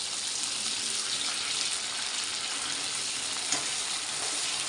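Onion sizzles steadily in a pan over low heat, a constant dense frying hiss with a faint clink partway through, alone and fairly loud.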